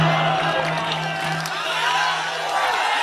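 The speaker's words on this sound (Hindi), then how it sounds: "जोरदार तालियां" Loud, sustained applause with cheering and whoops from a large audience at a shayari poetry recitation in Jaipur, a dense steady roar of clapping filling the whole moment without a pause.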